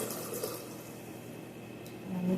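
Warm water, about one and a half cups, poured into a mixing bowl for fresh ground wheat bread dough, a steady close splashing stream lasting a couple of seconds with no talking.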